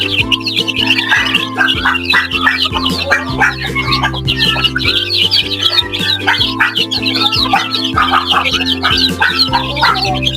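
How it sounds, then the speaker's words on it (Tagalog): Darag native chickens cluck and chirp continuously over a low steady hum, several birds calling close by with no talking. "yung kuka ng mga manok ko"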